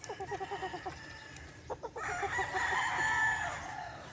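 A Boston Black gamefowl rooster at a game farm crows several times, with repeated short clucking calls first and a longer drawn-out crow at the end. Other birds can be heard faintly in the background.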